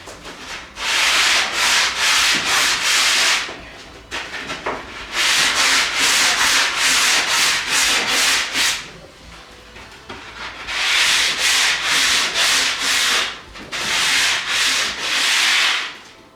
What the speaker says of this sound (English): Should have done all my sanding first